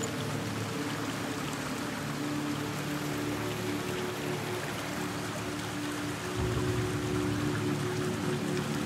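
A waterfall in Hellblade: Senua's Sacrifice pours in a constant broad rushing wash, steady and fairly soft, with no voices over it.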